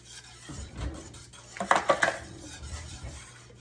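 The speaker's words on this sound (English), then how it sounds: "don't get on to me for using this metal whisk on this pan" A metal whisk scrapes and clinks against a pan while stirring heavy cream: quick, close metallic strokes with a brief flurry of sharper taps in the middle.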